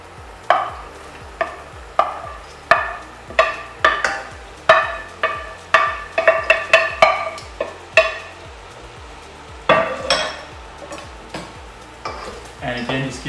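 Carrots and celery stirred through a pot for seafood chowder, with repeated scraping spoon strokes and clinks in an irregular rhythm over a steady soft sizzle, close and clear.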